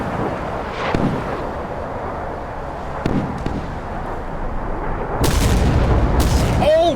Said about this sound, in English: Naval gunnery going up.